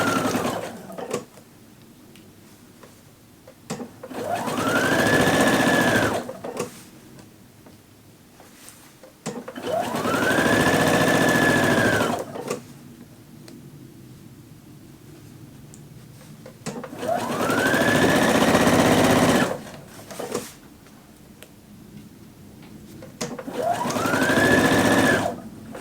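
A sewing machine stitches a dress lapel in four long, loud runs, each with a whirring pitch that rises and levels off and then stops abruptly, separated by quieter pauses.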